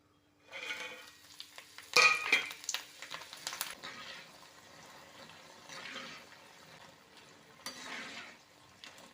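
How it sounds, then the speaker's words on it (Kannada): Buttermilk chillies frying in hot cooking oil, soft intermittent sizzling mixed with stirring clatter against the pan, one louder burst of scraping early on, fairly quiet overall and without talk. "ಕುಕ್ಕಿಂಗ್ ಆಯಿಲ್ ಬಿಸಿಯಾಗಿದೆ ನಾವು ಮಜ್ಜಿಗೆ ಮೆಣಸನ್ನು ಸ್ವಲ್ಪ ಫ್ರೈ ಮಾಡಿಕೊಳ್ಳುವ"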